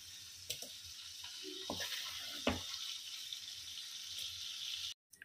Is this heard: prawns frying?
yes